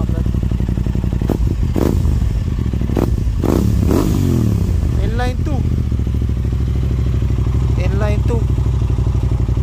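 Aprilia 660 inline-twin motorcycle in a showroom revved hard several times, sharp rising-and-falling bursts over a thumping idle, close and loud, with people talking over it.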